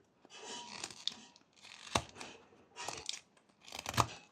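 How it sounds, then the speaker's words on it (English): A whittling knife makes stop cuts into wood while carving an owl, four distinct crunching, scraping strokes spaced about a second apart, close and alone. "Next we're going to make the tail, and for that I'm making a cut right here, a few stop cuts this way"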